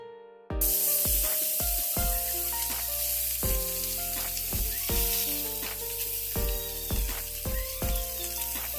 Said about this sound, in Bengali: এখন আমি অলিভ অয়েল দিয়ে এটা ফ্রাই করে নেবো